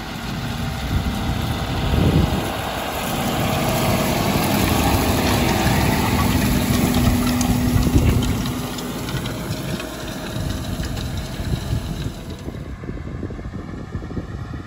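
A Horizon strip-till rig's tractor engine idles at a demo in Lincoln, a steady low rumble that holds close and even for most of the stretch before easing off near the end, with no talking.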